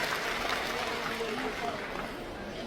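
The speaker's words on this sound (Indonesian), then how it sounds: "Aplaus buat Brilian Bisnis" Sustained audience applause for the company Brilian Bisnis at a business presentation, a dense, even wash of clapping that holds steady for the whole stretch, fairly close and loud.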